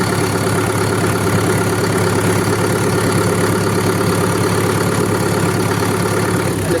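A Solis 5724 57 HP tractor's diesel engine idles loudly and close by, a steady, even chugging rumble that runs unbroken throughout.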